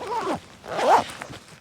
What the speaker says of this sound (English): You have the internal zipper,